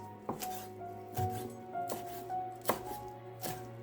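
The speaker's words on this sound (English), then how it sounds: "Chop fresh parsley leaves, they add a bright aroma and fresh flavor." A knife chops fresh parsley leaves on a cutting board with about six crisp, evenly spaced taps, close and clear in a quiet kitchen.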